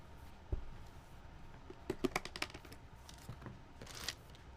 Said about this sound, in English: we're organizing some keycaps. I'm unboxing some